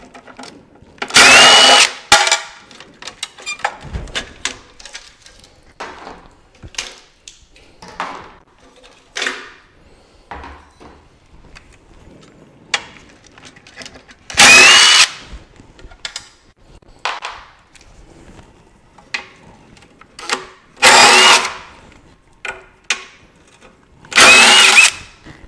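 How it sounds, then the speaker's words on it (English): A power tool removes 7mm screws from the high-voltage battery safety box of a BMW 530e, sounding in several loud close whirring bursts of one to two seconds, separated by quieter handling clicks and knocks. "I'm gonna use a 7mm to undo these 4 screws."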